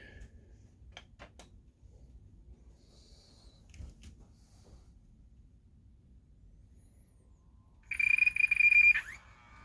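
A repaired Optoma HD26 DLP projector powers on after a few soft clicks and handling noises, then its color wheel spins up with a brief, bright high-pitched whine that swells and cuts off near the end.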